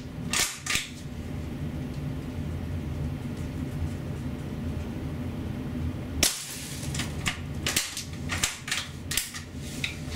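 APS APM50 shell-ejecting CO2 sniper rifle firing, giving sharp close cracks: a pair of quick shots near the start, then a louder burst of several rapid sharp reports later, over a steady low background hum.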